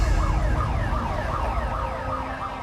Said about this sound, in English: when you hear an alarm like that,